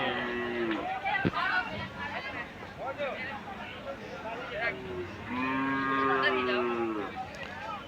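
Cattle moo repeatedly, several long lowing calls near and far, over a busy crowd murmur and people talking at a livestock market before Eid al-Adha.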